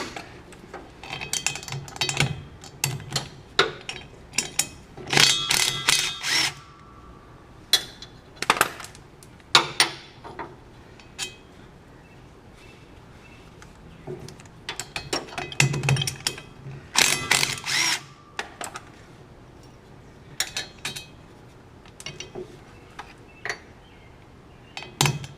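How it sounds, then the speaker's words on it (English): Ratchet wrench clicking as four drive shaft bolts come out of a Legends race car during a rear gear change, bursts of sharp metallic ratcheting and clanks in irregular spurts, close and fairly loud with no talk. "So the first thing is taking out the 4 drive shaft bolts."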